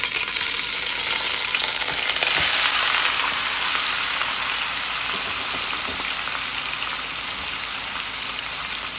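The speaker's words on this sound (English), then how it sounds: "you got your oil that's already hot, and you got your steak that's already cut, already gonna be cooked." Three pounds of cut steak frying in already-hot oil, a loud, steady sizzle and crackle that fills the whole stretch with no talking.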